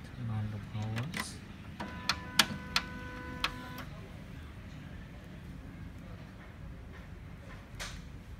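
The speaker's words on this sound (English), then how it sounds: "Now we turn on the printer and checking the program. Then wait for the printer." An HP Color LaserJet Pro MFP M181fw printer powering up gives a few sharp mechanical clicks and ticks with a brief whirring tone from its internals, over low room hum, while a person talks nearby.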